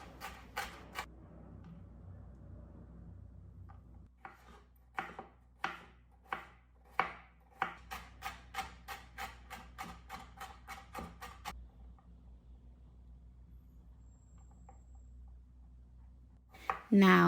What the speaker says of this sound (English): Chop up your desired amount of green and red capsicum.